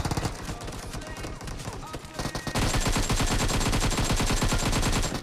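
Automatic gunfire in the PUBG Mobile video game, coming from a road: a steady run of rapid shots that grows louder and denser partway through, close and continuous.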